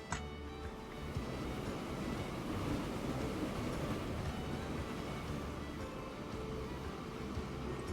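A train runs steadily in the Transport Fever 2 video game, a continuous rumbling rail roll with wheel noise that holds at an even level for the whole stretch, with no talk.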